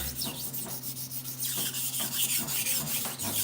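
A knife blade scraped hard and fast against a sharpening surface, rough repeated rasping strokes in a steady rhythm, close and fairly loud, with no talking.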